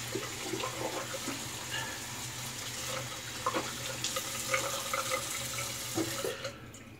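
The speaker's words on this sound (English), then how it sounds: "Rinse the brush out." Running tap water splashes steadily as a shaving brush is rinsed out in a sink, a continuous close hiss with small splashes and faint clatter.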